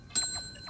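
A single bright ring from a toy cookie-counting rod, a short metallic bicycle-style bell strike with a quick decay, close and clear with no talk.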